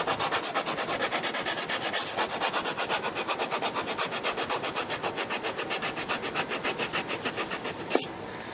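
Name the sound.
sanding under guitar braces with sandpaper on maple stick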